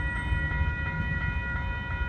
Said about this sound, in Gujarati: મસ્ત ટ્રામ તેના સ્ટેશન પર આવી રહી છે